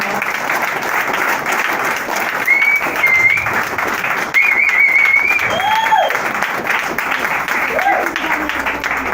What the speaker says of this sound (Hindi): संजय भाई साहब के लिए सबसे पहले एक बार जोरदार तालियां दो